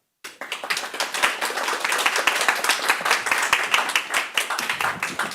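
A lecture audience at a Seoul history talk show breaks into dense, sustained applause that starts abruptly and holds steady, many hands clapping close and loud with no voices over it.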